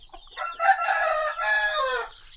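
A rooster crows once, loud and close, in a long drawn-out call, in a pen where it is kept with hens.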